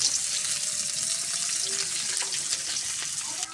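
Chopped onion frying in hot oil with black and green cardamom and cloves, a steady broadband sizzle that stays loud and even throughout, with no talking.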